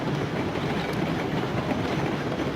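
A train rolling along the track in the video game Railroads Online on the Tofte and Lake Superior route, a steady dense rumble with faint rhythmic wheel clatter throughout.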